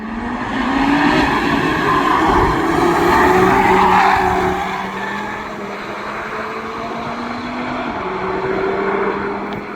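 An updated Audi RS3 laps the Nürburgring, its engine droning loud and steady as it sweeps past, with tires squealing through the corner and the engine note climbing through a gear change.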